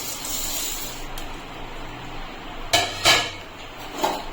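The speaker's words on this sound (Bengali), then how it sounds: "এখন আমি দিয়ে দিচ্ছি এখানে 2 কাপ চিড়ে।" Flattened rice (chira) is poured into ghee in a kadai, a soft rustling pour followed by a few sharp metallic clinks and scrapes of a utensil against the pan, close and with no talk.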